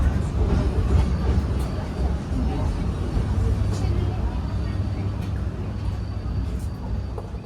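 Arjuno Ekspres executive-class passenger train travelling from Surabaya toward Malang, with a steady low rumble and rolling noise heard from inside the carriage, continuous throughout with faint background voices.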